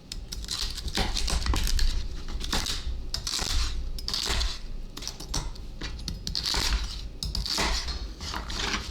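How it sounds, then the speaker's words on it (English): A kitchen knife chops celery stalks on a board for chicken soup, a close run of rapid, uneven crunchy cuts with no talking. "Next, we're going to go ahead and cut up these celery stalks."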